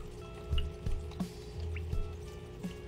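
Water drips steadily while aquarium animals are drip acclimated, giving soft, close, irregular plops over a faint background hum.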